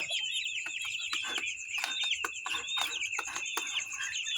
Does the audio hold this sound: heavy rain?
no